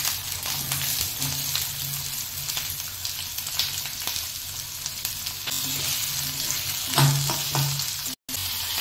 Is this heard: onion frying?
yes